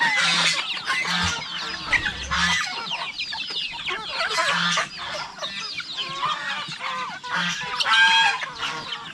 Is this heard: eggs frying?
no